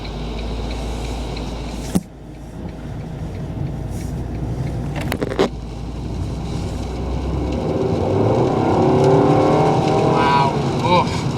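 Automatic Fiat 500 driving and accelerating, a steady engine drone inside the cabin that builds in pitch and loudness toward the end, with a couple of sharp knocks early on.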